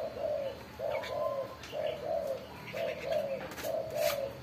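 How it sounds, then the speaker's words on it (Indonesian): Caged spotted doves and zebra doves set out in the sun coo in a repeated rhythmic series of soft, mellow notes, with faint chirps from other birds in the background. "burung anggungan kita, ada kukur, ada perkutut, ada burung putar juga"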